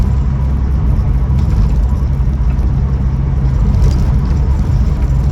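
A Ford Cortina 1600E classic car idling, its engine a steady, loud, close rumble with a constant low throb and no change in pace throughout, with no voices.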